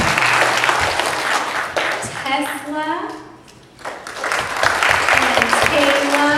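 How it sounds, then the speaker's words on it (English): A church congregation applauds through the middle, a dense patter of clapping that swells and fades, with a voice and other talking on either side. "so let's give him applause anyways"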